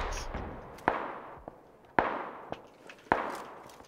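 Gunshots in the battle royale game PUBG: several sharp, distinct cracks spaced about a second apart, each decaying quickly, with fainter pops between them and no talking.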